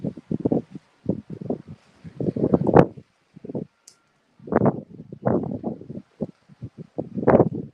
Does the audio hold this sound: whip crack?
no